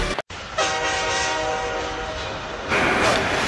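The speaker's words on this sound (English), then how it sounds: "that was the sound of the buzzer, meaning we are ready to play some hockey" A loud, sustained harsh buzzer blares for several seconds at an adult hockey league game, over the noise of a crowd in a large, echoing rink.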